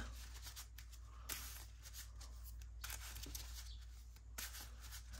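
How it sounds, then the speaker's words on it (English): An encounter deck of Marvel Champions cards is shuffled several times in quick riffling bursts, close by, over a low steady hum. "We're going to shuffle up our encounter deck."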